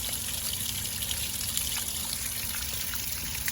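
Water drains from a tank reservoir holding about six gallons during winterization, making a steady trickling, gushing flow up close that stays even throughout without any talk.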